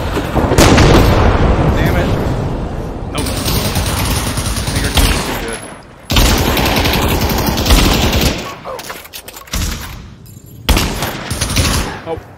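Airstrike blasts and rapid gunfire in a competitive video game shooter, loud dense bursts and booms filling most of the stretch with brief gaps, under occasional talk.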